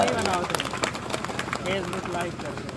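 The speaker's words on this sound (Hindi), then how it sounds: "इसलिए एक बार जोरदार तालियां आप सभी लोग अपने लिए बजा दें।" A crowd at a Rashtra Uday Party rally in Biharganj, Pratapgarh, breaks into loud, continuous clapping, while an amplified voice talks prominently over the applause.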